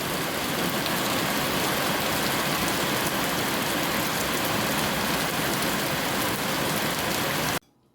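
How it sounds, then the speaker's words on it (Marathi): Heavy rain drums loudly and continuously on a tin roof, a dense, unbroken roar that stops abruptly just before the end. "हे बघा किती पाऊस येतो आहे बाहेर"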